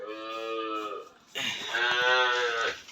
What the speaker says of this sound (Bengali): এই যে বকনাটা ছাইরা রাখছি, এটা হলো রেড ফ্রিজিয়ান যে গাভীটা আছে সেটার বকনা বাছুর